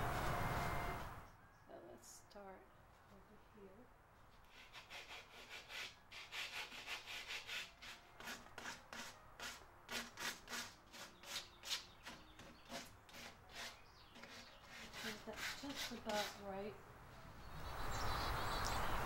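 Sandpaper rubbed by hand over chalk-painted wood to distress the finish, starting light: a long run of quick, scratchy back-and-forth strokes in steady rhythm, close and fairly quiet, with brief pauses and a little background noise at the start and end.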